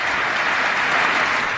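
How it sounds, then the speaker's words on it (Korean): Standing ovation in the US Congress, dense sustained applause from a large crowd, loud and even with no breaks. "기립박수를 치고 있는데요"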